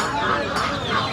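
Chickens cluck and squawk at a duck and chicken poultry market in Khulna, a busy, fairly quiet flock sound with no clear talk.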